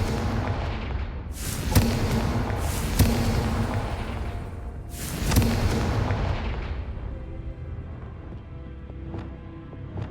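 Heavy booming blasts from the Confringo fire spell in Hogwarts Legacy, three or four loud explosive bursts that each roll off into a rumbling tail, then fade to quiet ambience.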